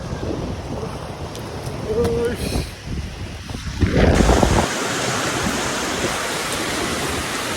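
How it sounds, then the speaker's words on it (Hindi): Strong storm wind with rain roars and buffets against the microphone, with gusts surging louder midway, and a voice briefly speaking under the noise. "बहुत खतरनाक है, बहुत तेज हवा है"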